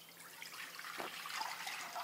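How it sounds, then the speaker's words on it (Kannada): Water poured into a cooking pot while preparing a breakfast dish, a short soft splashing trickle with a brief gush near the middle, close by and fairly quiet. "ಈಗ ಇದಕ್ಕೆ ಒಂದು ಸ್ವಲ್ಪ ನೀರು ಹಾಕ್ಕೋತೀನಿ ನೋಡ್ರಿ"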